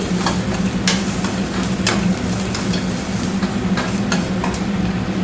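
Loud, close frying hiss with crackling oil as bell peppers fry, punctuated by repeated scraping strokes of a spatula stirring the pan.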